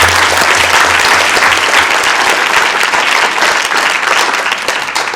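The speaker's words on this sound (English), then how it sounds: "And I want to give them all a big round of applause" Loud, sustained applause from the audience at a Sacramento City Council evening meeting, a dense wash of clapping that holds steady throughout with no speech over it.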